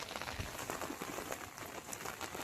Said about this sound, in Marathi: पाऊस काय थांबत नाही. रिमझिम रिमझिम चालूच आहे त्याचं.